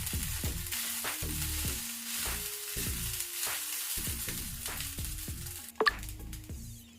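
Potato fried rice sizzles steadily in a hot pan while being stirred and tossed, with repeated scraping strokes of the spoon throughout and one sharp clank near the end; no one speaks.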